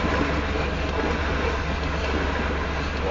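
A southbound BNSF tanker freight train rolls past on the rails, a loud, steady, close rumble of wheels and cars that continues without a break and with no voices.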